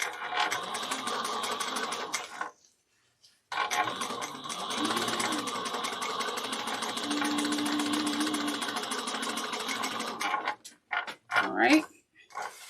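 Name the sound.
sewing machine stitching a bag seam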